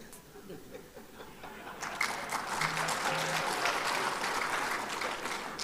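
Audience applause at an open dialogue event with presidential candidates, a steady wash of clapping rising midway and holding, moderately distant, with faint murmurs and a few chuckles underneath.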